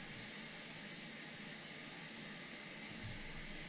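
In a flight simulator, the starter on engine number 3 of a Felis 747-200 spins up as a steady, continuous broadband whooshing whine that holds a constant level throughout.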